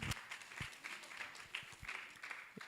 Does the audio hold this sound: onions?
no